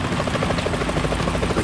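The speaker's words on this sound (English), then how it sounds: "Is that a chopper I just heard?" A steady, loud helicopter rotor thrum in the game Metal Gear Solid 2, with rapid rhythmic chopping over a dense engine drone, continuous throughout.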